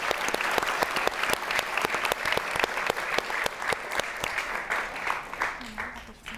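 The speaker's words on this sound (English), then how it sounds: "If I could request for a round of applause for Mr." An audience gives a round of applause at a policy talk on India, Japan and the Indo-Pacific, with steady, fairly close clapping that fills the whole stretch and tapers slightly at the end.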